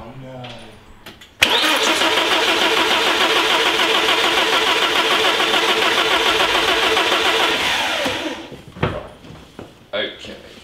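A 25-year-old race car engine, running down a cylinder and missing a throttle position sensor, cranks and catches, then roars at a steady loud level for several seconds before cutting off, with voices talking briefly before and after.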